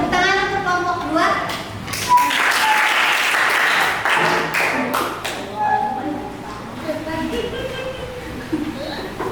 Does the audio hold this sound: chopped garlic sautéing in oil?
no